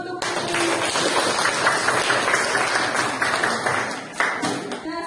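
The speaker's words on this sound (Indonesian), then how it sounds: "Tepuk tangan untuk Putri." Students in a biology classroom clap for a classmate, giving a dense burst of applause that runs loud and steady for several seconds before tapering off.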